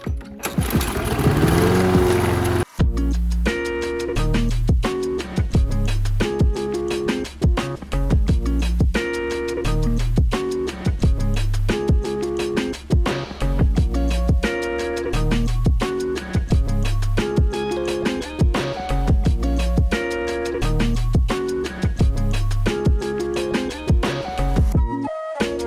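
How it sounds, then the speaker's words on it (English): A lawn mower runs steadily while mowing a lawn, its engine droning loud and close with a rhythmic pulsing chop throughout, after a brief louder start at the beginning. "now that we have the lawn mowed"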